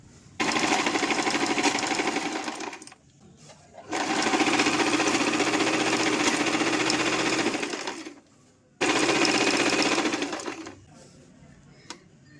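Sewing machine running an edge stitch in three loud bursts of rapid, even stitching separated by short pauses.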